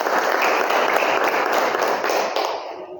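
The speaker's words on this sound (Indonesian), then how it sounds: "Kita berikan aplaus dulu" Students in a classroom giving a round of applause, a dense burst of clapping heard close by that fades out toward the end.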